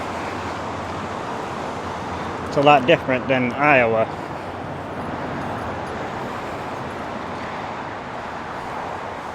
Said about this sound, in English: Constantly hearing traffic.